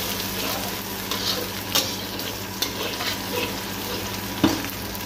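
Chopped food is stirred in a frying pan, a steady close sizzle broken by occasional scraping and clinking of the spoon against the pan.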